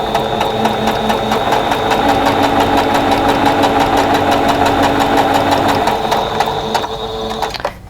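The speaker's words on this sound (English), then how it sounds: "So let's go to the sewing machine and do that" A sewing machine stitches a quilt block for a 4-patch fox goose design, its rapid needle run steady, loud and close for nearly the whole stretch before easing off at the end.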